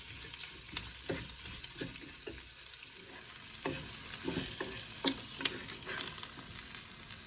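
Onions fry in a pan until deep golden brown for a South Indian salmon fish curry, sizzling steadily with repeated soft scraping stirs throughout.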